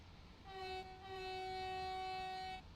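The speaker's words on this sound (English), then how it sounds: "Hello, other train. It's class 66." A Class 66 locomotive passes in the Train Sim World 3 railway game, sounding one sustained, steady horn blast of about two seconds over a low rumble, moderately distant and without speech.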